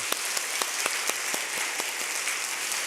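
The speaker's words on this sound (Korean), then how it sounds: "우리 축복의 박수 드리겠습니다" Church congregation applauding after a prayer at a Korean Presbyterian Sunday service, a steady wash of many hands with scattered sharper claps standing out, sustained evenly throughout.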